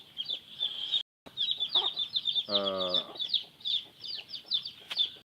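Chickens being raised on a farm cluck and chirp in a dense, busy chorus close by, with a short gap and a brief human murmur in between.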